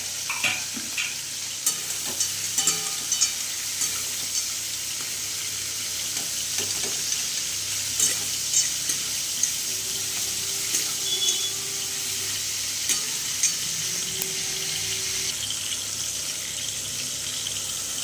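Fried potatoes, cauliflower and paneer stir-fried together in a pan, with a continuous sizzle under frequent scraping and clattering stirs across the whole stretch.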